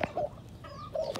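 An ash-grey Pava cenizo gamecock clucks in a few short, separate bursts close by, with quiet gaps between them.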